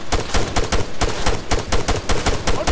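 Rapid, loud gunfire in ARMA 3 fires in a steady rhythm of close, evenly spaced shots, about a dozen bursts, with no voices.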